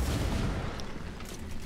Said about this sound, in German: Mit der Pistole nochmal drauf schießen.